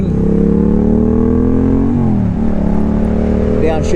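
Motorcycle on Metzeler Racetec RR K3 tyres downshifting on a downhill track section, a loud close engine note dropping in pitch with a brief rev blip near the middle, steady and continuous throughout.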